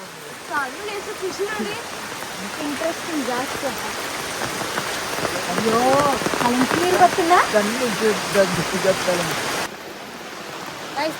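Heavy rain pours steadily in the background at night while several people talk and laugh over it during crab hunting, the downpour a constant hiss beneath the voices.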